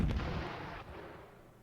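Tank gunfire in the war strategy game Panzer Campaigns Normandy 44: a single heavy low boom that decays into a rumbling tail, fairly loud and alone, with no talking.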